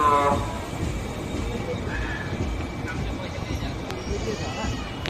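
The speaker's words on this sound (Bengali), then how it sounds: "আমাদের ট্রেন এসে পৌঁছালো উলুবেড়িয়া স্টেশনে" The 15722 Paharia Express pulling into Uluberia station on the way to Digha, heard as a steady rolling rumble with a brief horn-like tone near the start and occasional clanks, under a person talking.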